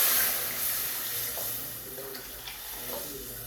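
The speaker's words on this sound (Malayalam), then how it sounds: "വെള്ളം ഒഴിക്കുന്നു." Boiled water poured into a pan of fish curry, giving a steady hissing, bubbling rush that runs close and fairly loud for the whole stretch, with no voices.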